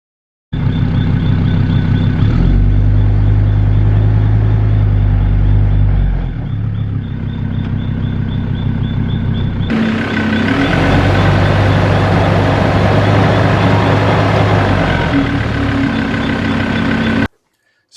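A 4x4 drives along an off-road track, its engine droning loudly and close throughout, the pitch rising and falling as the revs shift, before cutting off abruptly at the end.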